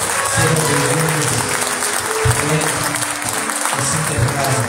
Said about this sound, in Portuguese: Um aplauso, Senhor, por essas vidas.